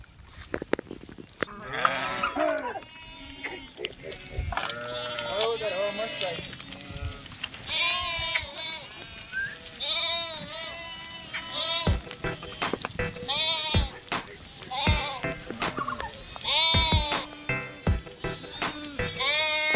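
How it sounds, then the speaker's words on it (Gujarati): A large flock of goats and sheep bleats on a rainy hillside, many overlapping calls near and far in irregular bursts, with rain hiss underneath and someone talking between the cries. "અને આપણો ઓલો નાનો ગોળ છે એની વાહ વાય બધા બકરા જાય છે."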